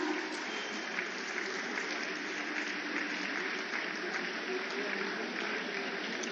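Loud, steady applause from a large crowd at a public ceremony in Kashi, a dense unbroken wash of clapping sustained throughout with no clear breaks.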